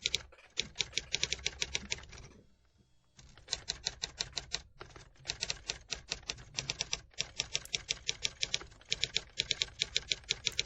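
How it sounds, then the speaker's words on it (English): Typewriter keys striking in quick, uneven bursts of sharp clacks with brief pauses between runs, close and clear, with no voices over it. "Typewriter."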